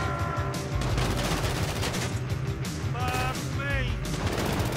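Rapid gunfire in GTA V, with dense bursts of overlapping shots from carbines and pistols crackling continuously under a player's voice, while a couple of brief rising electronic tones cut through near the end.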